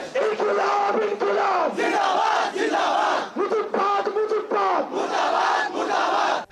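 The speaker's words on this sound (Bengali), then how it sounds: "এ সময় ফ্যাসিবাদী শক্তির বিরুদ্ধে সোচ্চার হবার স্লোগান দেন এনসিপির নেতারা" A crowd at an NCP rally led by party leaders chants slogans against fascist forces, loud rhythmic voices rising and falling in repeated bursts with brief pauses between phrases.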